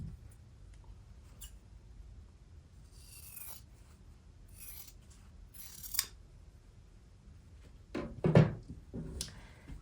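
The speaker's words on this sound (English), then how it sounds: "we are going to cut 1/4 inch beyond this line to trim off the excess here" Scissors cut through excess quilting cotton a quarter inch past a sewn diagonal seam. A few quiet snips and rustles stand out against a soft background, with the loudest cut near the end.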